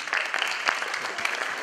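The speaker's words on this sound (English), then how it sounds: "Round of applause, Colonel." An audience applauds Colonel V.P. Singh at a talk, a steady patter of clapping from a crowd for under two seconds, with no speech over it.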